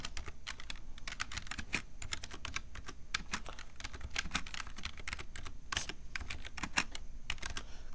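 Fast typing on a computer keyboard, a continuous run of quick, close key clicks with irregular rhythm and no voices, fairly quiet overall.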